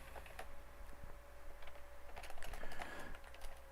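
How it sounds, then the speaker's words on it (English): Someone types on a computer keyboard during a coding live stream, with close, continuous clacking in irregular bursts that grow busier toward the end over a faint background hum; no speech. "I'm like thinking and typing at the same time"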